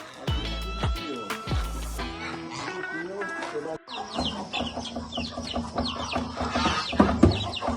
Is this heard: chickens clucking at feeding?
yes